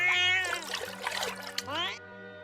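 Lucifer, a cat being bathed, gives drawn-out rising and falling meows over a faint trickle of water, with a voice present in the background.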